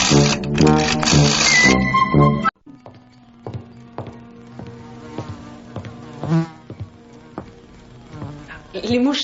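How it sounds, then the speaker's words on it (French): Flies buzz in hot weather, a loud, close, dense droning for the first couple of seconds, then a thinner, steady buzzing that wavers and continues underneath until the end. "Les mouches sont envahissantes par cette chaleur."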